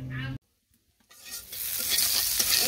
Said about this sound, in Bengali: মসুর ডাল একটু জিরে ফোড়ন দিয়ে দিলাম